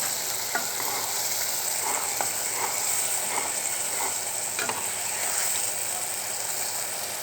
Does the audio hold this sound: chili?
yes